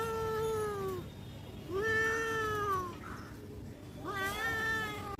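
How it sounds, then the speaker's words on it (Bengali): Cats meowing outdoors in a park, including a mother cat: three loud, drawn-out meows close by, separated by short pauses, over a low background rumble. "মা বিড়াল আমাদের উপর রাশ দিচ্ছে"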